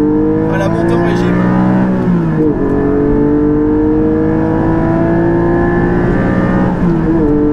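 A Porsche 718 GT4 fitted with an Akrapovic exhaust, heard close and loud as the engine revs, its pitch climbing in smooth sweeps with a brief dip and rise near the end.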